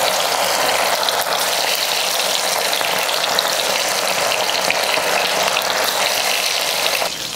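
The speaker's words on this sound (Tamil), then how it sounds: "எண்ணெய் காஞ்சிருச்சு, மீனை போட்டு பொரிச்சுக்கலாம்." Fish frying in hot oil in a home kitchen, a loud, continuous close-up hiss and crackle that holds steady throughout with no talking.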